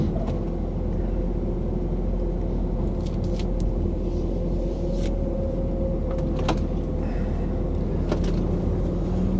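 A heavy truck pulling away, collecting from France on a snowy mountain pass: a constant low engine rumble with a steady drone and a few faint cab clicks and knocks, close and even throughout, no voices.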